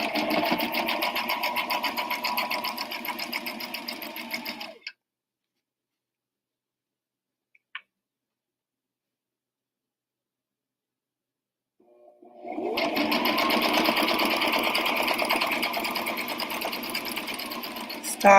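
A sewing machine stitches fabric for an apron in two steady, buzzing runs of rapid needle strokes, separated by a long silent pause while the fabric is turned, close and loud.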